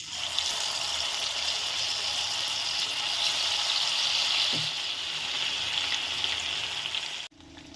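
Green chicken kebabs dropped into hot oil and frying, a steady loud broadband sizzle that holds throughout at close range, with a brief soft knock midway and a sudden cut near the end.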